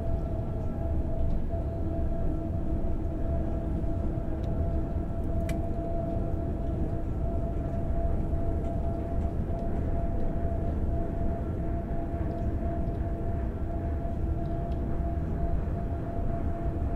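ICE 1 high-speed train (BR 401) with a sound mod in Train Sim World 3: a steady rumbling run with a constant tonal whine, continuous and moderately loud, with a brief sharp click partway through and no voices.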